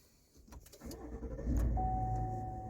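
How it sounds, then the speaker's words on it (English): A Walkinshaw Silverado pickup fitted with a full exhaust system starts up: a brief starter whir and clicks, then the engine catches and settles into a steady, fairly quiet idle. "This is a start up."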